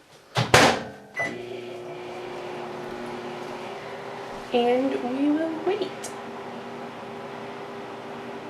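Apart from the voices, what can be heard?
microwave oven running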